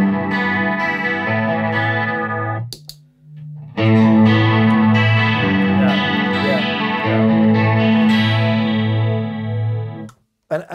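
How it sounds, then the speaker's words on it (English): Electric guitar through a Corona Chorus pedal with no overdrive, shimmering chorused chords that pause briefly, then resume fuller and ring out before fading, close and clear. "it's still a nice chorus sound without it"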